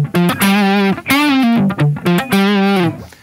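A Line 6 Spider IV 15-watt practice amp on its crunch channel plays a bluesy, classic-rock electric guitar riff, loud and distorted. The phrases are sustained and separated by brief pauses, with no talking.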